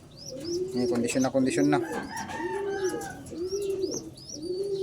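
Pigeons coo repeatedly in a loft of stock birds, the low rolling calls pulsing in a steady rhythm close by, with a brief burst of chirps early on and a short spoken phrase from a man.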